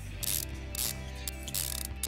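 A ratchet tightens manifold bolts on an engine in the Car Mechanic Simulator 2015 video game, giving four bursts of rapid mechanical clicking at a steady pace over a constant low musical drone.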